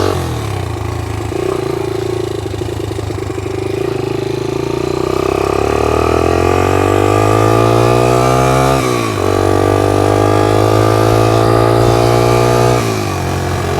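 A 1982 Honda XL80S motorcycle engine runs steadily and loud on a fresh clutch, revving up in pitch with smooth rising sweeps and dropping back twice before climbing again, with no talking.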